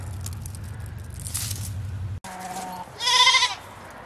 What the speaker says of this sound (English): Loud chorus of goat voices over here.